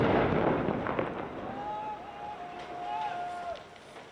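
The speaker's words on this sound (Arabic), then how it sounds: "هي جاهزة للتفجير، تفجير النفق." A tunnel detonation near Aleppo opens with a heavy, rumbling blast that slowly rolls away, while a voice shouts and calls out over the fading roar.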